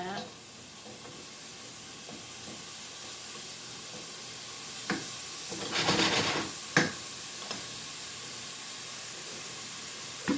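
Garlic sizzles and hisses steadily in a pan for pasta sauce, with a steady frying sound broken by a few stirring scrapes and a louder burst of steam partway through.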